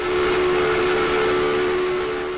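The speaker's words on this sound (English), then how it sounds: "That's when the last whistle was blown." Old brewery steam whistle blowing, a loud, steady sustained tone holding unbroken from start to finish with a faint breathy edge.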